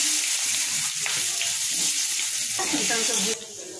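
Dry red chilies, whole cardamom, cumin and potato pieces frying in hot oil give a steady, close sizzle that runs continuously, with a few louder crackles and stirring scrapes near the end.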